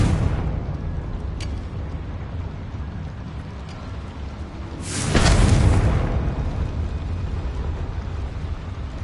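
A single Confringo fire spell from Hogwarts Legacy explodes in a loud, broad burst midway through, set against a steady low game ambience that continues before and after.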